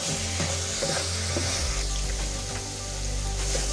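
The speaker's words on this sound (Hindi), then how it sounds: "घी के साथ गाजरों को कसेंगे। गाजरों को अच्छी तरीके से कसाई करेगा जब तक गाजरें घी ना छोड़ दें।" Grated carrots sauté in ghee for gajar halwa with a steady close sizzle and repeated stirring scrapes, plus a low rumble from the stove that grows louder midway, and no talking.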